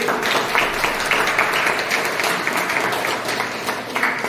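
An audience at an AWPL business-plan seminar breaks into steady, dense applause, a continuous wash of many hands clapping with no talk over it.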